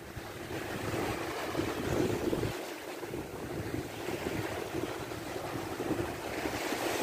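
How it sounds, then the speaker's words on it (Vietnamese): Rough sea waves churn and wash continuously while wind buffets the microphone on a drizzly day by the shore, a steady, fairly loud surf roar with no talking. "Biển giờ lớn rồi các bạn."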